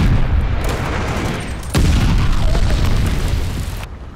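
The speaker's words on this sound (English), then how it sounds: "Heads up, enemy glide bomb coming in hot." A glide bomb explodes in Call of Duty: Vanguard Hardpoint multiplayer, one loud, deep boom that bursts in sharply and rumbles on across dense battlefield noise before cutting off.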